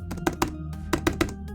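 Typing on a computer keyboard while entering a logarithm into a math program: a short burst of crisp, close key taps in an uneven rhythm, with no talk over it.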